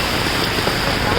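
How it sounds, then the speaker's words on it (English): Heavy monsoon rain pours down on traffic-filled Mumbai streets, a loud, dense, unbroken hiss of downpour close by that holds steady throughout. "This is how Mumbai looks when it rains very heavy."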